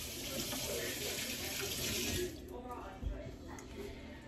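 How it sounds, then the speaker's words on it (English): Water runs from a kitchen tap as hands are rinsed, a steady hiss that cuts off partway through, followed by faint clatter and quiet room sound. "Let me rinse my hands."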